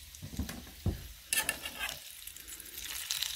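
Food browns in a frying pan over raised heat, a close sizzle broken by stirring and scraping clatters, with bursts of louder frying.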